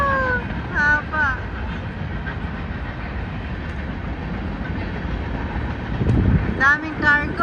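Long freight train rolling past in a busy park, a steady rumbling clatter of wagons with the horn sounding near the start and again at the end, with people talking over it.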